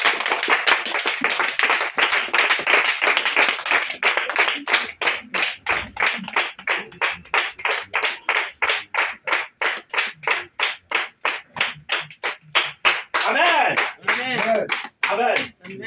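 A church congregation claps in a steady, fast rhythm to acclaim Jesus during a French-language service, loud and close, with cheering voices rising over the clapping near the end.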